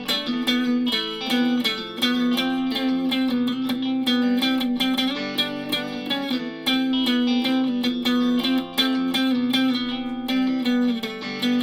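Distorted electric guitar played through the neck humbucker pickup, with a warm, thick tone, plays a steady riff of strummed chords, loud and continuous throughout.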